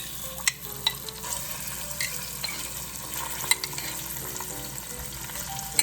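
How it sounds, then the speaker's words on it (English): Oil-packed tomatoes go into a soup pot for chicken tortilla soup, giving a soft steady sizzle with scattered clinks and scrapes of stirring, fairly quiet and close, with no voices. "I'm going to add my tomatoes"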